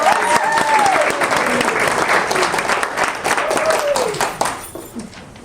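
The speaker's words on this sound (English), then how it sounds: "So let's give her a big round of applause." Loud audience applause at a writers' author launch event, dense clapping with cheering voices and whoops mixed in, holding steady before tapering off near the end.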